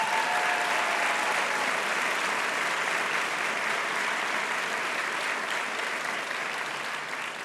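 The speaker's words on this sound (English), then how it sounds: "let's give him another round of applause" An audience at a city tourism organization's annual meeting gives a sustained round of applause, steady and even throughout, with the clapping easing slightly toward the end.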